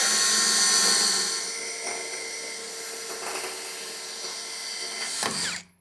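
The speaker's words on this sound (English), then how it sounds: "I don't like this drill." A cheap corded electric drill runs steadily with a high whine, driving a bit into a truck chassis in a garage, then winds down and stops near the end; close and loud, no voices.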